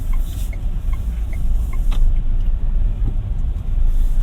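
A GAC GS3 Emzoom R-Style SUV accelerates in Sport mode, its engine a steady low rumble heard from inside the cabin, building slightly with some faint ticking indicator-like clicks early on.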